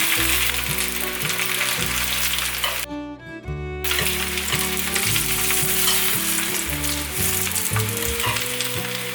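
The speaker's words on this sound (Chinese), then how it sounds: "再把表面煎成金黄色就可以了，可以转小火煎" Steamed sausages sizzle steadily on low heat in a hot pan, a continuous crackling hiss with background music playing throughout.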